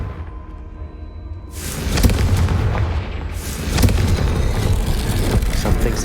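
A Confringo fire-blast spell detonating in Hogwarts Legacy, with a sudden loud explosive roar that swells and rumbles on in sustained waves of booming, crackling noise, close and dense with no talk.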